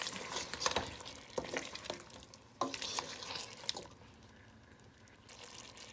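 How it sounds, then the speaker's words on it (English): A spoon stirring chicken, white kidney beans and carrots in a cooking pot, producing soft intermittent scraping and wet shuffling sounds over a faint sizzle, fairly quiet and close, with no talking. "We're gonna give it a little mix."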